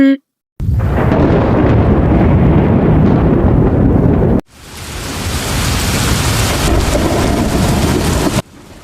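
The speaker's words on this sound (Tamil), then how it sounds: "காட்டுல ஜோர மழை பெய்ய ஆரம்பிச்சது." Heavy rain pours down in a forest as a steady, loud broadband roar, with a brief gap near the start and a short break midway before the downpour resumes.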